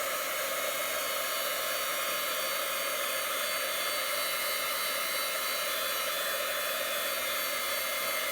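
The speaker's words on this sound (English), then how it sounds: "You can dry it with just a heat tool, so I'm going to bring that in." Heat tool blowing over damp watercolor on a card, a steady loud whooshing roar that holds unbroken throughout with no talk.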